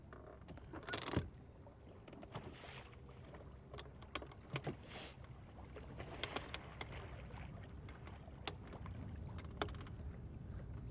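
A boat cruises on Lake Guntersville with steady low engine and water rumble, broken by scattered sharp knocks and splashes of hull slapping the water. No one speaks.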